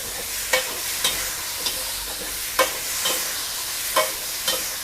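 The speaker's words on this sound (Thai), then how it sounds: "ใช้ไฟแรงเลยนะคะ ทีนี้ผัดให้ปลาหมึกสุก" Squid being stir-fried in sauce in a wok over high heat sizzles steadily, while a spatula scrapes and tosses in irregular close strokes about every half second.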